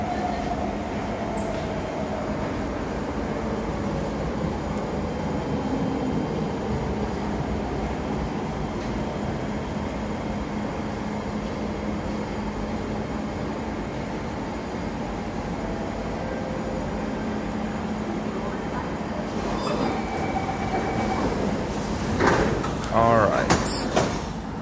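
A Siemens C651 metro train, set 207 and 208, runs on the Singapore MRT with a steady low rumble and motor whine that holds throughout, rising into clattering and door noise near the end while riders talk.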